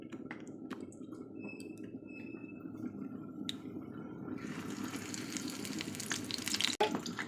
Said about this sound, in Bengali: তেলটা গরম হয়ে গেছে আর একে একে ফুলগুলো এইভাবে নিয়ে তেলের মধ্যে ছেড়ে দেব